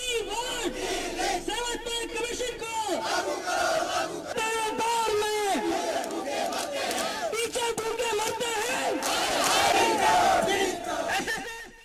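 Protesting teachers at a sit-in outside a chief education office shout slogans together, a loud, continuous crowd chant with overlapping raised voices and rhythmic call-and-response swells.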